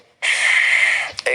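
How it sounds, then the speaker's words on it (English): A single deep inhale drawn steadily for about a second during a lung breathing exercise, a close, breathy rush of air that stops abruptly, followed by a brief catch and the start of a following breath. "First exercise, inhale,"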